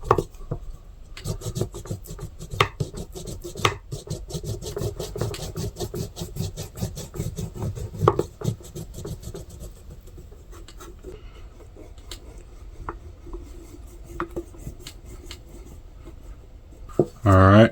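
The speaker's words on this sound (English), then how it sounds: "got my beeswax here. Now I'm just going to go around and rub it in." Beeswax being rubbed by hand onto a custom metal prybar, a dry continuous scraping and rubbing close up with irregular strokes, a sharper knock near the end.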